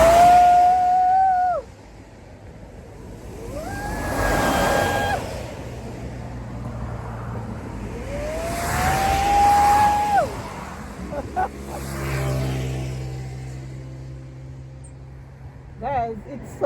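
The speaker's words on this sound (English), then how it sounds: "it's so nice to hear the sound of the vehicles passing, the trucks" Vehicles and trucks roll past on a road near Heathfield Farm, with a few swelling whooshes as they go by, low rumble underneath and several rising, gliding tonal whines.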